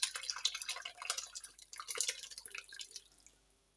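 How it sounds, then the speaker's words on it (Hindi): Water drips and trickles steadily from fresh paneer being squeezed in a cloth for rasgulla, a close, busy patter that tapers off toward the end. "अब यहाँ पे ऐसे पानी हमने अच्छे से निचोड़ना है।"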